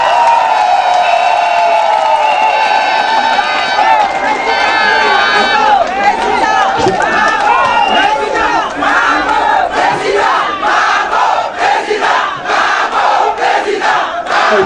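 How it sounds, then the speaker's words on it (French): A large outdoor crowd of political supporters at a rally in The Hague shouts, chants and claps for President Laurent Gbagbo, voices overlapping loudly and continuously with rhythmic bursts of cheering. "On fait ces applaudissements, vous les faites à votre président Laurent Gbagbo."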